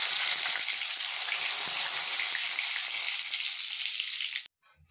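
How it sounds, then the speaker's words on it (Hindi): Tadka of dried red chilli and curry leaves dropped into hot oil for a Bihari-style kach vegetable curry, a loud steady crackling sizzle for about four seconds that cuts off abruptly, followed by brief quiet clatter. "अब मैं इसमें ये तड़का डालूंगी जो मैंने रखा था।"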